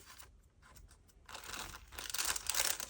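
Scissors cut through crisp glassine paper along a crease, giving a series of dry crinkling snips that grow louder and denser toward the end, close and with no talk.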